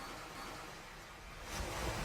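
Ocean waves from an anime episode wash in with a soft, steady surf hiss that swells louder near the end, without any speech.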